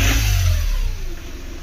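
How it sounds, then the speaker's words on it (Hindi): A Volkswagen Polo 3-cylinder diesel engine catches and revs loudly up close, then settles toward a rough idle, the clatter dropping in pitch as the revs fall. "अब हम गाड़ी फ्रेंड्स स्टार्ट करेंगे।"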